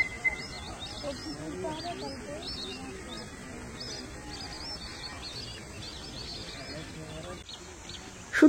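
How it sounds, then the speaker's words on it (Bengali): Migratory birds chirp and call over a winter lake ringed by hills and forest, a layer of scattered faint twitters over low background murmur. "তোমরা শুধু পাখির আওয়াজগুলো শোনো।"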